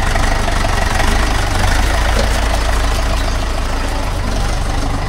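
A tractor engine runs at idle close by, a loud, steady diesel chugging rumble that fills the whole stretch without pause.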